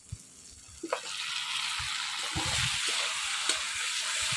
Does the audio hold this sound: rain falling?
no